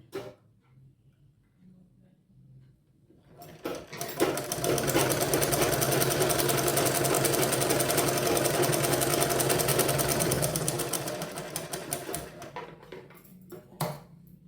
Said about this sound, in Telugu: వెనక భాగం కూడా మనము స్టిచ్ చేసాం.